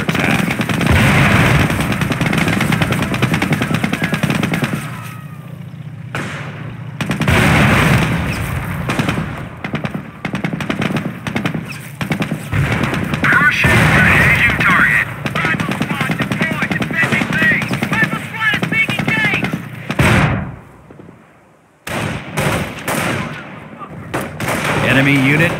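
Heavy gunfire and explosions rip through an attack on a base in the PC game Company of Heroes, with dense rattling bursts and booms that pause only briefly. Voices can be heard over the battle.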